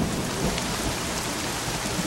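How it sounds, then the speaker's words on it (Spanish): Heavy rain pours down in a dense, steady hiss with a deep rumbling undertone, loud and continuous, with no voices. "Ha comenzado a llover más fuerte."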